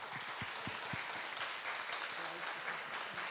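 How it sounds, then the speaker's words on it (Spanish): Audience applause welcoming a speaker at a university lecture, a broad wash of clapping in a hall with a few distinct nearby claps at the start, moderately loud and steady. "Vamos a darle la bienvenida con un aplausote,"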